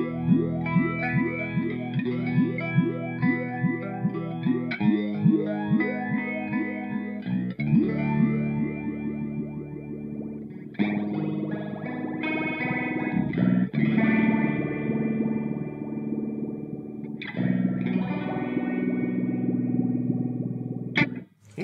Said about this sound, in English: It's got that sort of metallic flanger thing in it.